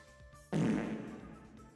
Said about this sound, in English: So that's just fart with reverb.